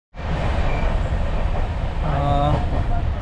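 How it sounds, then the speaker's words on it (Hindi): Kashi Express 15018 standing at a station platform, a steady rumbling hum of the idling train and station bustle filling the whole stretch, with a brief tonal hoot or whine rising near the end. "एक दो ही मिनट रुकती है यहाँ पर ट्रेन।"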